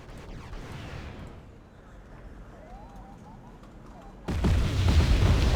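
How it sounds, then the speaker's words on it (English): Cluster bomb explosions in Wargame: AirLand Battle during a 3v3 match on the Ostersund map: a low rumbling blast fades into distant murmur, then a loud, dense burst of booming detonations erupts near the end. "Then I'm going to cluster bomb the rest of these infantry units."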